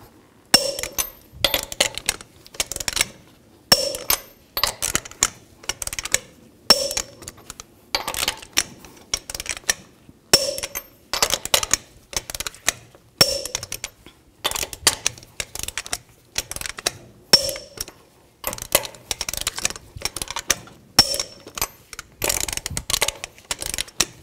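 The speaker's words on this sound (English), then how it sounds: "Now torque these lug nuts to 148 foot-pounds in a cross pattern to tighten the wheel down evenly." Wrench tightening the wheel lug nuts on a Ford E250 van, a steady run of quick metallic ratcheting clicks in short bursts with brief pauses between, close and fairly loud, with no talking.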